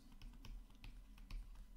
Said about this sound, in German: wenn man das dann ausrechnet und seinen Taschenrechner tippt